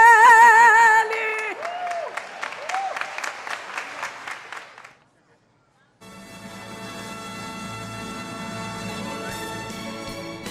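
Rhythmic clapping along with a church choir song, the claps landing in a steady beat under singing voices before a brief silence, after which music resumes with a fuller band.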